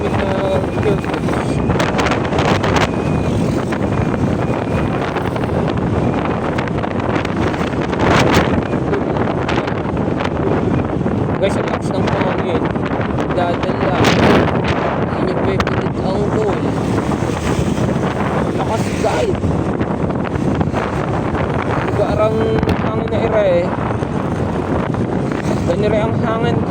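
Strong wind buffeting the microphone of a Honda motorbike rider on the road in Lucena City, a constant loud roar with gusty surges throughout, and someone talks over it at times.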